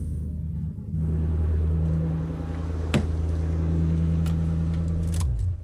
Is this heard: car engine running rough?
yes